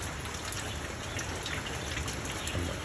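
Rain falls steadily on a rooftop where ducks have been let out, a continuous, even hiss of drops that stays dense and moderately loud throughout, with no voices.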